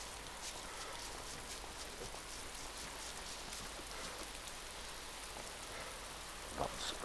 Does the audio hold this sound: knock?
no